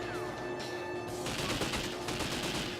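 Rapid gunfire in the video game 007: Nightfire as enemies are shot, a dense burst of loud shots that thickens into sustained firing over the last half of the stretch, with no talk.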